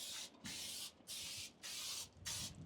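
Pam cooking spray coating the inside of a Lone Star Grillz cabinet pellet smoker, five quick aerosol hisses in a steady rhythm, close and alone.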